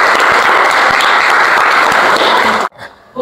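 A loud, dense applause sound effect plays in a primary-school maths lesson, with many hands clapping in a continuous roar. It cuts off abruptly near the end and leaves near silence.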